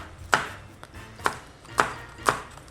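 A knife slices a spicy vegetable into thin pieces on a cutting board for Korean soybean paste stew, giving four crisp, separate cuts in a loose rhythm, close and clear in a quiet kitchen.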